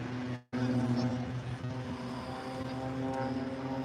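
A propeller aerobatic aircraft of the Blades display team performs at the Farnborough Airshow 2022, its engine a steady, loud harmonic drone with one brief dropout near the start.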